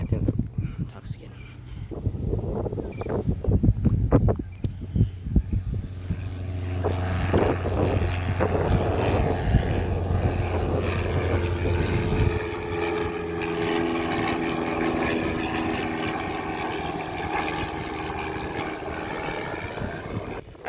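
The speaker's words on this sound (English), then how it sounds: "And that heli is landing again." A helicopter comes in to land and lifts off again at a busy airfield on a windy day, its rotor and engine roar building into a loud, steady drone under chatter from nearby people.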